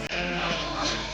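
Sheep bleating in the yards while being drafted, a short, close bleat over a busy livestock background.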